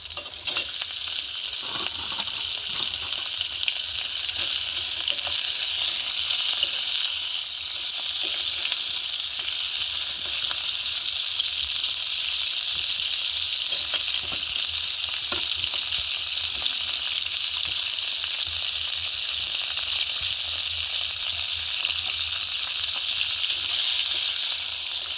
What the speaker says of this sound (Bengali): তারপর দিয়ে দেবো কাঁকড়াটা।